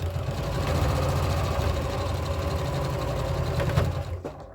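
A sewing machine fitted with a walking foot stitches a quilted Christmas project, running as a fast continuous mechanical hum and patter close by, then slowing and stopping near the end.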